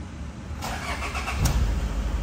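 A stock Toyota Fortuner diesel engine is cranked, with a brief starter whir and then a catch, before it settles into a steady low idle rumble, close and moderately loud.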